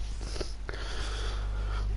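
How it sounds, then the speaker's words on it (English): A person with a cold sniffles a few times, short close nasal intakes spaced apart, over a steady low hum. "If you're wondering why I'm sniffling in the background, I have got a bit of a cold"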